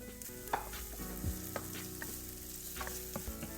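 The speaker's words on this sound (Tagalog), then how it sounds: "Igisa lamang ito hanggang sa mag-golden brown ang sibuyas, bawang at luya." Onion, garlic and ginger sauté in a pan for Filipino chicken curry, an even close sizzle with several spatula scrapes and stirs.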